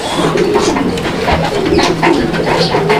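Pouter pigeons, including a grizzle-less pouter, coo repeatedly in a close, loft-like space, the soft rolling calls overlapping in an uneven rhythm with faint voices in the background.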